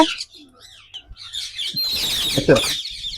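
Ringneck parrots at a bird farm give sharp chirps and harsh screeching calls, loud and close, rising into a burst of overlapping squawks near the end.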